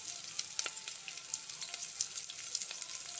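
Curry leaves and cut green chillies crackling in hot oil, a bright continuous sizzle with sharp spits and pops scattered through, close and fairly loud with no talking.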